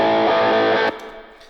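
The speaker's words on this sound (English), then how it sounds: "the heavily distorted signal is basically only being boosted because there's very little else that these overdrive pedals can do" Electric guitar through heavy distortion stacked with overdrive pedals in Amplitube, a thick, saturated chord ringing for under a second before cutting off abruptly into a faint fading tail.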